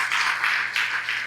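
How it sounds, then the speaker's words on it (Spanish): A church congregation at an evangelical service claps in a brief, close burst of applause, the hand claps blending into a loud, rhythmic wash. "dale un aplauso al Señor"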